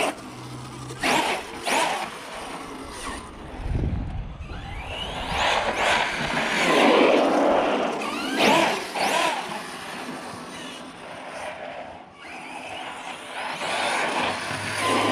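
An upgraded Arrma Big Rock 6S RC monster truck drives outdoors, its electric motor whining and revving in repeated bursts with tire scuffing and gravel noise, fairly close and continuous, with no talking.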